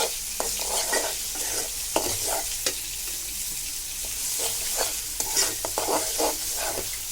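Spice masala stir-fried in oil for a taro leaf (kochu shak) dish, a continuous sizzle broken by repeated scraping strokes of a spoon against the pan, close and steady, with no talking.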